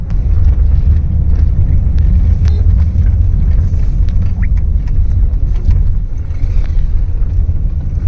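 Road traffic streams past on the way to Kasarde village, heard as a loud, continuous low engine rumble that stays steady and close throughout, with no clear gaps between vehicles.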